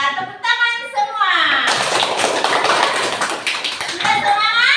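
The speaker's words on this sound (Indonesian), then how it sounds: "ya tepuk tangan semua." A class of children breaks into loud, close hand clapping after a teacher's spoken cue, a dense burst of claps that keeps going for several seconds, with a voice rising over it near the end.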